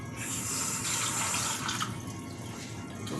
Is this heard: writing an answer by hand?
no